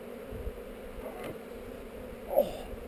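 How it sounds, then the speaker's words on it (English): Buckfast honey bees buzzing around a hive among heather, a faint steady hum with occasional nearer passes, no talking. "Gorgeous buckfast queen bees."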